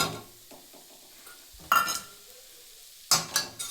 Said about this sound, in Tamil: சிக்கனை போட்டு நல்லா செஞ்சு விட்டுக்கலாம்